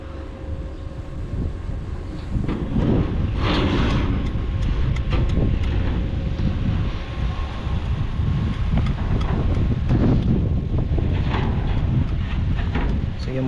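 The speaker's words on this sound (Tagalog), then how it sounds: "Malakas yung hangin." Strong wind at a bridge construction site buffets the microphone in a steady, loud roar with gusty surges, and no one speaks.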